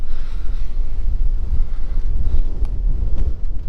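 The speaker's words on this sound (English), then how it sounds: "And now it's windy and it's rainy and it's crappy up here." Strong wind buffets the microphone high on a rainy Lake District fell, a loud, steady low roar with gusting swells and no voices.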